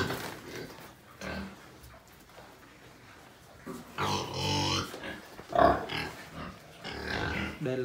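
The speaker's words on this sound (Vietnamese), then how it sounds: "Đây là lợn bản nhá, lợn đen nhá." Local black pigs in a pen on a Hmong highland farm give short grunts and oinks, with one louder burst partway through and softer rustling between calls.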